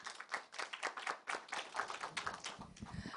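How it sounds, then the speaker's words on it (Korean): Faint, rapid clapping from a conference audience at a science and technology innovation policy forum in Korea, a quick dense patter of many hands heard from a distance and lasting throughout. "큰 박수로 맞아주시기 바랍니다"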